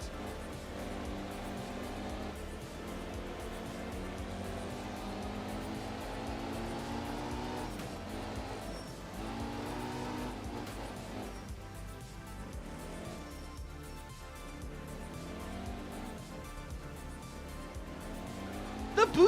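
Busso V6 engine of a rally car in Art of Rally, a high, trumpeting exhaust note held steady and loud with rising and falling revs throughout, continuous with no talk.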